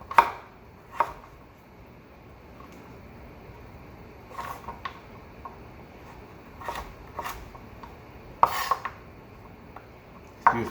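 A knife chops vegetables on a cutting board while seasoned rice with callaloo is prepared, giving sparse, sharp knocks spread irregularly with quiet gaps between them.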